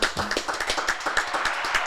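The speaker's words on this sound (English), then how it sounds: "Let's give a round of applause" Brief applause for guest Chaka Balamani on a talk show, a few people clapping in quick uneven bursts, close and fairly sparse, with no one talking.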